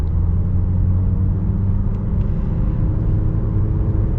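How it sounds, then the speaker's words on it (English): A 2022 Honda HR-V AWD with a CVT accelerates at partial throttle, giving a steady, low engine rumble and road noise from inside the cabin with no change in pitch. "And kind of see how it does, just partial throttle here."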